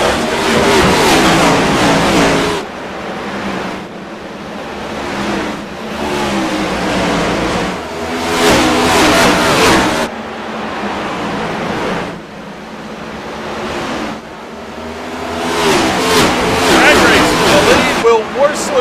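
NASCAR Next Gen race car engines at Bristol in iRacing, a loud roaring pack of engines that surges and fades in repeated waves as cars pass, with a commentator talking over them.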